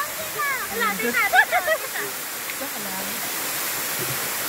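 Steady rushing water of a waterfall in Guinayangan, Quezon Province, fills the background, while people talk and laugh briefly near the start.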